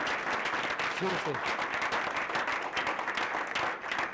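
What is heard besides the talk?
applause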